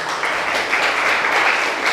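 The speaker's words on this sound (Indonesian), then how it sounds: "Oke, tepuk tangan untuk kalian." Junior high students clap in a classroom, a steady, dense burst of applause that holds evenly for a couple of seconds.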